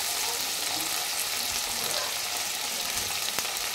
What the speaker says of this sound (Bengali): তো এগুলো এখানে সব ফ্রাই করব।